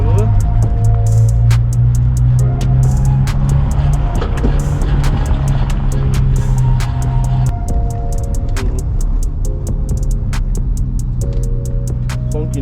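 A Nissan 350Z with a welded differential skips on a test drive: a loud steady engine drone and road rumble with repeated sharp ticking clicks and knocks from the drivetrain, heard from inside the car.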